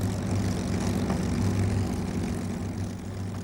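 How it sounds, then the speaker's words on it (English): P-51 fighter airplane with its propeller engine, a loud, sustained throaty drone with steady low pulsing, heard alone and close throughout. "this new airplane appeared on the scene, the P-51"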